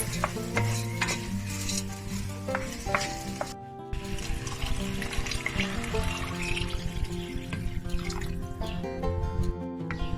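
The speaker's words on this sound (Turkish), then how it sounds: "üzerine geçecek kadar suyumuzu koyuyoruz" Water poured into a pot of bulgur hisses and bubbles against the hot base, a dense sizzling stream with light splashing and stirring that runs on throughout, no voices over it.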